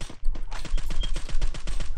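Steady rapid automatic gunfire in a shooting video game, an unbroken string of evenly spaced shots, loud and close, with no voices.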